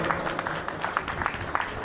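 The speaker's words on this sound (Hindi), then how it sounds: "जोरदार तालियों के साथ इनका अभिवादन कीजिए।" Audience clapping at a Shiv Mahapuran katha at Neelkanth Mahadev Mandir, Rohini, a steady patter of hands that stays moderate in level and fairly even throughout, with faint murmur underneath.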